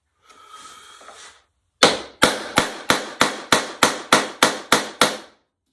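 Ten sharp, evenly spaced hammer blows ring out on a wooden parlor rosette, loud and close, after a brief stretch of soft rustling.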